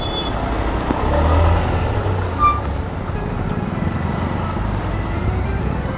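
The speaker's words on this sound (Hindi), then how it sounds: "और पूरा लंबा ट्रैफिक है।" Dense road traffic of cars and trucks in a long jam somewhere on a motorcycle route from India to Nepal, a steady rumbling engine bed with a brief louder swell of a passing heavy vehicle and faint intermittent beeps.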